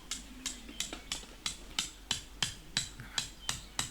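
A hammer strikes metal tent stakes into the ground in a steady rhythm, about a dozen sharp, close clanks at an even pace with no voices.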